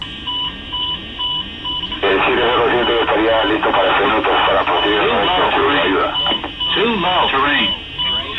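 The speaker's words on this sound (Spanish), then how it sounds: "se activa la alarma de proximidad con el terreno" An aircraft cockpit ground proximity warning tone beeps repeatedly, then a loud synthetic voice alert repeats "too low terrain" urgently over continuous radio-like chatter and tones.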